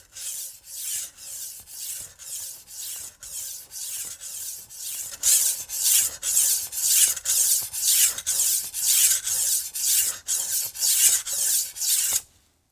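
Wusthof Classic chef's knife blade drawn across a sharpening stone, about twenty steady rasping swipes in even rhythm, close and clear, growing louder partway through, with no talking.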